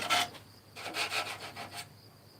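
Sandpaper rubs by hand across a wooden chair in several short back-and-forth strokes, close and fairly soft, with no talking.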